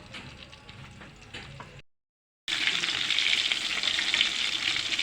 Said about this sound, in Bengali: তেলের উপরে ছেড়ে দেবো সবগুলো দেওয়া হয়ে গেছে এখন আমি সুন্দর করে ভেজে নেব